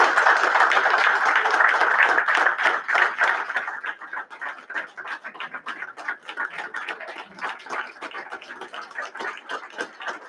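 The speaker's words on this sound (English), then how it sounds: "we can give her a round of applause" A council meeting audience applauds a retiring council member: dense, steady clapping from many hands that thins out and softens into scattered claps toward the end.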